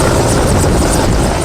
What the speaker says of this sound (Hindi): कुछ वक्त में हेलीकॉप्टर कमांडोज को लेकर ऑपरेशन वाली जगह पर पहुंच गया।